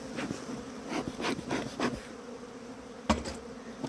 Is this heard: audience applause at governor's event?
no